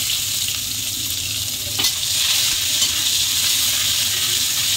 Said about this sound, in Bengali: এবার পেঁয়াজটা ভাজার মতন বন্ধুরা এরকম লাল লাল করে আমি পেঁয়াজটা ভেজে নেব